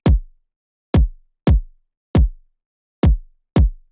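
Top kick drum sample with its high end boosted by EQ, six punchy isolated hits with sharp clicky attacks and short decaying tails, spaced unevenly and heard alone, loud and close.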